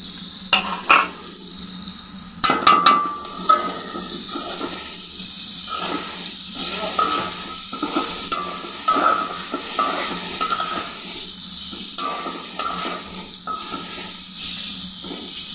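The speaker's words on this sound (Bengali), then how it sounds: "শুটকি, পেঁয়াজ, রসুন এগুলো যেভাবে ভাজতে হবে" Dried fish, onion and garlic sizzle in a pan with a steady hiss, broken by scraping stir strokes and a few sharper clatters of the spoon near the start.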